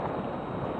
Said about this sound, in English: Of course I hit record when it's heavy wind.